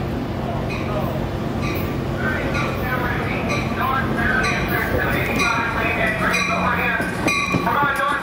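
A Metrolink commuter train rolls past at Oceanside, a loud, close, continuous rumble of wheels with rhythmic clicking and metallic clinks over the rails, while voices and radio chatter come through underneath.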